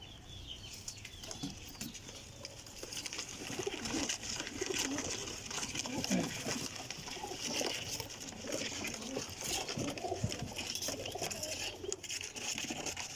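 Soft coos of blue Kamgar pigeons and faint wing flutters sit under a steady background hiss, fairly quiet and continuous throughout.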